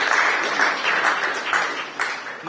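Audience applause at a book presentation ceremony honouring a professor, dense, close clapping that swells and fades in waves across the whole stretch.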